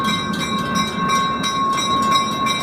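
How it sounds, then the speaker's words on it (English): Skunk Train passing near Fort Bragg on the North Spur line, a steady close rumble of rail cars with bright whistle-like tones ringing over the rolling noise throughout. "Is that the skunk train?"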